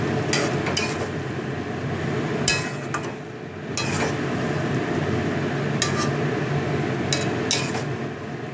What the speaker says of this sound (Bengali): এবার এইভাবে কিছুক্ষণ কষিয়ে দিই, ডিমের ভেতর মশলাগুলো ঢুকে যাবে।